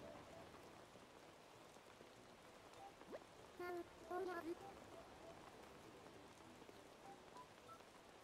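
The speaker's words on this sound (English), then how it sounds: "Oh, we got some rain." Rain falls in the Animal Crossing video game as a soft, steady hiss of drops, quiet and continuous, with a few brief chime-like game tones near the middle.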